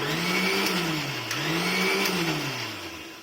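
A mixer grinder whirs loudly and close while grinding rice for idli batter, its motor pitch rising and dipping in waves before easing off near the end, with no voices.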